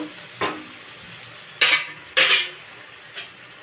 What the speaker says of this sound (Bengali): ঢাকাটা এবার খুলে দেখবো এটা হয়ে গেছে তো গ্যাসটা এবার অফ করে দেবো